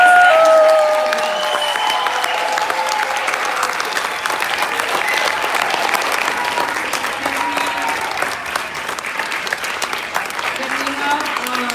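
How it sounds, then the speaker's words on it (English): Applause at a graduation ceremony, loud and continuous clapping from the audience with a few scattered whistles and cheers mixed in, sustained throughout. "One more round of applause, please,"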